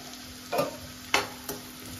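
Chopped onions frying with chicken in a pan for Hyderabadi chicken majestic, a quiet sizzle broken by three sharp stirring scrapes, no one talking.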